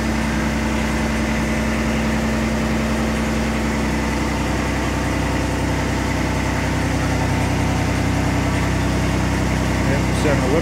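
Engine idling steadily underground at a hard rock gold mine, a loud continuous mid-low rumble with constant vibration that holds evenly throughout.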